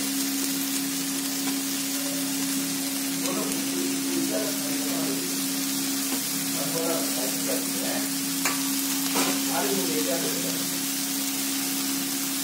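Egg and rice fry in a pan while being stirred for restaurant-style egg fried rice, a constant sizzle with scattered scraping stirs, and a voice talking faintly over it.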